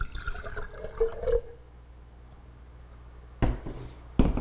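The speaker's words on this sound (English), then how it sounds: "So I'm just going to get rid of some of this nutrient solution." Hydroponic nutrient solution poured out of a mason jar, a gurgling liquid splash in the first second and a half, then near silence before a couple of short sharp knocks and splashes at the end.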